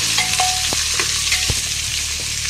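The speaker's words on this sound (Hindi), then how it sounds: "5 मिनट तक हम इन सब्जियों को ऐसे ही भून लेंगे।" Potatoes and lobia beans fry in a kadhai with a steady close sizzle, broken by several sharp scrapes and knocks of a spoon stirring the vegetables.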